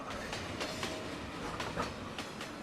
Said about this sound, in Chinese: 54路有轨电车